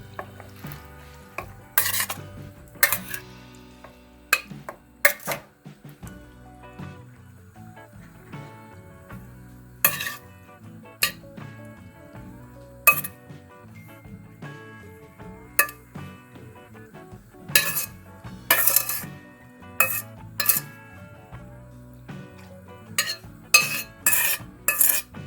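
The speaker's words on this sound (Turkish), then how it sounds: "Kaynattığımız kayısı ve üzümü süzüyoruz." Boiled dried apricots and raisins for aşure being strained in a kitchen, a run of sharp metallic clinks and scrapes of a spoon against a strainer and pot, irregular and close, with quiet stirring between.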